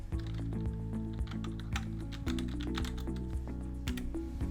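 Computer keyboard keys are pressed in quick clicks while working in After Effects, a run of light taps close by with no talking.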